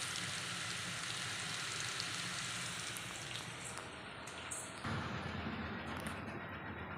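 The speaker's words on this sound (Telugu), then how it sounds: "ఇప్పుడైతే కాకరకాయ ఫ్రై చేస్తున్నాను ఫ్రెండ్స్" Bitter gourd frying in a pan gives a steady, faint, dense sizzle that hisses evenly throughout, with a slight shift midway as the pieces are stirred.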